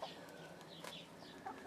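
Soft clucking and short chirps from turkeys and chickens, scattered and fairly quiet against a faint background hiss.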